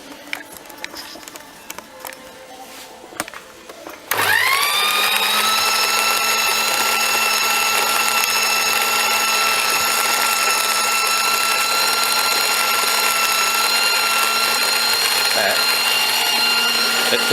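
An old electric grain mill, rewired for Australian plugs and with an adjustable crush, starts after a few seconds of light clatter and handling, then runs with a loud, steady motor whine and hum that holds unbroken to the end.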